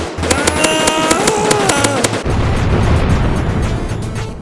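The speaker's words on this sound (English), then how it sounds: "Where do all these missiles even come from?" Missile blasts in a combat video game: a steady run of sharp bursts over tonal game effects, shifting after two seconds into a denser, rumbling barrage of explosions, loud and close throughout.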